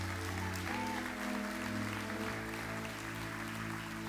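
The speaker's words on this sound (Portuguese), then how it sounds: "Aplauda Jesus aí." Applause from a church congregation during a Portuguese-language service, heard as a dense wash of clapping over a sustained organ or keyboard chord that shifts partway through.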